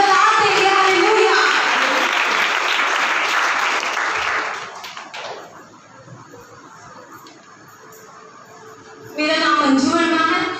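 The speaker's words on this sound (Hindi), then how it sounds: "आइए जोर से ताली बजाकर परमेश्वर को सलाम देंगे।" A church congregation at a Sunday service in Amritsar, Punjab claps loudly in a dense, sustained burst that thins out and fades to quieter room noise, before a voice begins speaking near the end.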